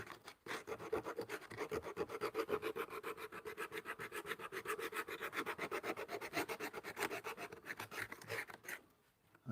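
Leather for a sandal being sanded by hand, a close, steady rhythmic scratching of quick regular strokes that keeps going for several seconds and then stops briefly at the end.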